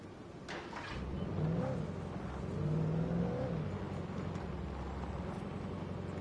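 In the video game Alan Wake Remastered, a truck engine drives along with a low rumbling hum that rises and falls in pitch twice as it accelerates, steady and moderately loud, with no talk.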